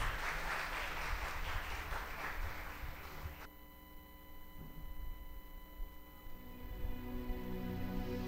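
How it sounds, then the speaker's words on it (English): Audience applause at a secondary school's anniversary ecumenical service, a steady wash of clapping that is moderately loud for several seconds, then thins and drops back to a sustained tone and low room noise. "could we give Makeda a roundly heart of applause?"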